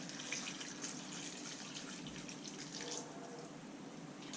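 Filtered water pours steadily over salted cabbage for kimchi, a continuous soft splashing rush with faint drips, holding at a low, even level for several seconds without any speech.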